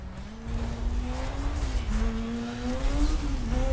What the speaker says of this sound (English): It has the RX-7/RX-8 like rotary engine noise.